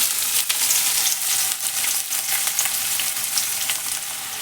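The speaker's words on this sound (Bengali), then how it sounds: "আমি দেবো ওই কুচনো পেঁয়াজগুলো।" Chopped onions sizzle steadily in hot oil in a pan with whole garam masala and cinnamon, a dense continuous frying hiss with faint stirring, close and fairly loud, no talking.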